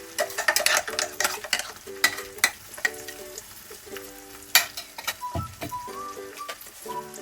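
Ground masala being stirred into mutton liver frying in a pan, close scraping stirs over a soft sizzle, with a steady ticking tone running underneath and no talk.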